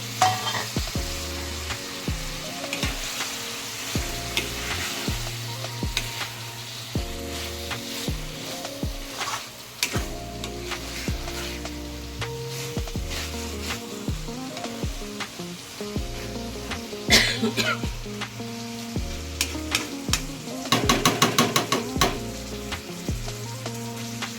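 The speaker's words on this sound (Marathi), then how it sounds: "आता हे आपण चांगला मसाला मिक्स करून घेतला आहे कोलंबीमध्ये" Prawns fry in masala in a Konkani-style pan, with a continuous close sizzle under repeated scraping stirs and clacks of a spoon against the pan.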